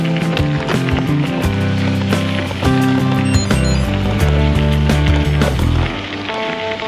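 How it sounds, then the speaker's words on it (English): A bicycle's freewheel ratchet ticks in rapid, steady clicks while riding on a February bikepacking trip on the Fool's Loop, close and moderately loud over a low rolling drone. "I'm going to get back on the bike and just keep pedaling on"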